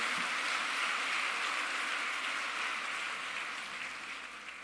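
Sustained applause fills a church service, a dense hiss of many hands clapping that slowly fades toward the end.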